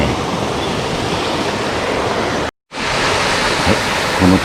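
Small mountain stream waterfall on Sado Island rushing in a dense, loud, steady wash of water that fills the scene, briefly cutting out for a moment midway before resuming unchanged.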